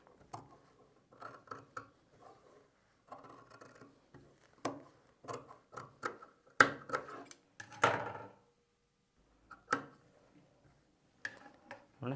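Scissors snip through blouse main fabric and lining stacked together, giving a run of short crisp clicks in irregular bursts, with quiet pauses between cuts and no talking.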